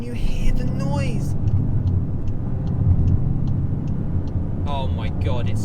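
A VW Golf 8 GTI Clubsport engine drones steadily from inside the cabin while driving, a low continuous rumble with a few faint ticks, as someone talks excitedly over it at the start and end.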